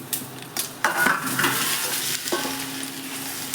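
Patra being stirred in a pan after a tempering of oil, mustard seeds and sesame seeds is added, with a steady close sizzle and a few scraping, clinking strokes of a utensil against the pan.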